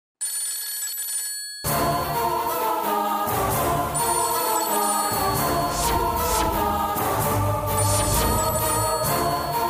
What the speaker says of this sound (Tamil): இந்த நேரத்துல யாருப்பா ஃபோன் பண்றது?